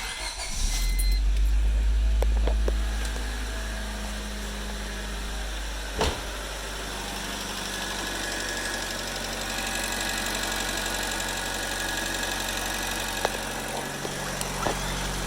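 A 1996–2000 Honda Civic with a newly replaced exhaust manifold cranks and fires up, a loud starter-and-catch burst, then settles into a steady, even idle with a light metallic tick, close by and without talk.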